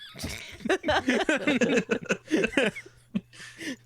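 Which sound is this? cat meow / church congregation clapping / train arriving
cat meow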